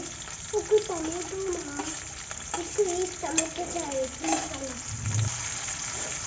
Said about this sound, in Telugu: ఇప్పుడు ఇందులోకి చిన్నగా కట్ చేసుకున్న అల్లం తురుము అలాగే ఆనియన్స్ వేసుకోవాలి